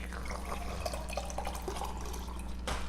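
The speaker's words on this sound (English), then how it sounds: "so I'm gonna pour it." Liquid for an autumn cocktail pours from a slightly leaking container, a soft continuous trickle with small drips over a low steady hum, fairly quiet and close.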